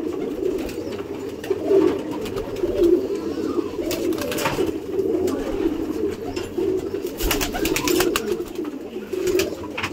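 Fulsera pigeons coo in a loft, a continuous close chorus of low throaty rolling calls with occasional sharper clicks and wing rustles.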